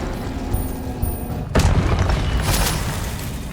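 A Confringo spell explosion in the video game Hogwarts Legacy: a single sudden boom midway, loud and near, followed by a rumbling decay and a second swell of noise.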